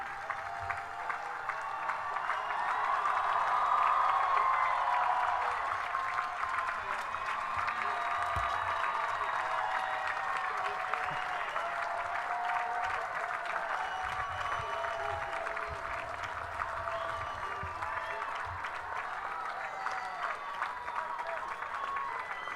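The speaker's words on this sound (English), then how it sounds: "A round of applause for our graduates" A large crowd at a college commencement applauds steadily, swelling early and then holding an even, sustained clapping throughout, moderately distant in a big space.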